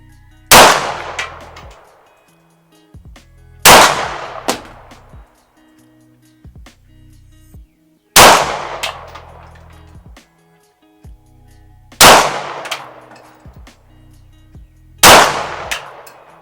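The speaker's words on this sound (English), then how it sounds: "now we'll take a couple of shots, see if we can hit that target out there" FN 509 pistol fired at outdoor AR500 steel targets: five loud, sharp gunshots spaced a few seconds apart, each with a ringing decay, close and alone.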